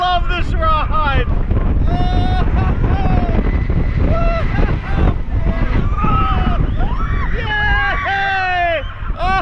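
Front-seat ride on the Possessed roller coaster at Dorney Park: roaring wind buffeting the microphone throughout, with excited riders screaming and shouting over it.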